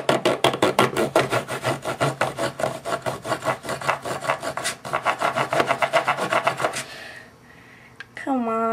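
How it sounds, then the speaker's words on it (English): Rapid rhythmic sawing open a tube of Urban Decay Primer Potion, a rasping back-and-forth stroke repeated steadily for several seconds, then stopping, followed by a brief clatter and a short tonal squeak. "Going back to the sawing."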